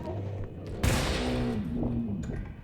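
A sudden loud gunshot burst from the video game R.E.P.O., followed by continuous crackling fire and background game noise.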